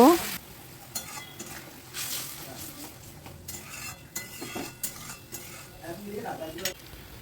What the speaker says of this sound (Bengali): সামান্য পরিমাণে গরম জল দিয়ে দেব